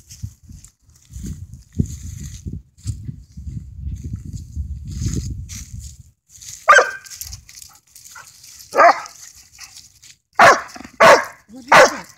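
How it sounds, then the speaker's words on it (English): A dog barks in several sharp, separate bursts, close and loud, after a stretch of low rumbling and shuffling noise. "Why are you barking?"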